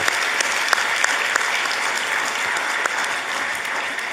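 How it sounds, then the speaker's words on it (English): Continuous applause from a large audience at an ECOWAS summit, dense, steady clapping with a few sharper claps standing out, held at an even level throughout with no voices over it. "I therefore invite all of us to give him a standing ovation and more applause."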